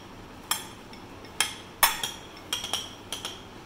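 Utensils clink against a bowl as salad ingredients are mixed with oil, several light, sharp taps and scrapes at irregular intervals, fairly faint and close.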